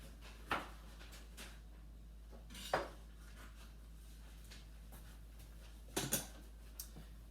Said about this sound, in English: So I'm going to slice those up over here on my clean cutting board.